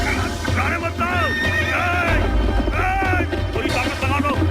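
Several horses neigh loudly and repeatedly during a battle scene in the animated film Mulan, their whinnies overlapping a dense roar of background noise and dialogue.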